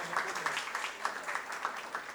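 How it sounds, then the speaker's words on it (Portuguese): An audience at a panel event claps together in a steady patter of many hands. The applause is fairly soft and somewhat distant, holding an even, continuous rhythm throughout. "uma salva de palmas para o Guilherme"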